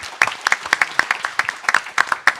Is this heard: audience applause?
yes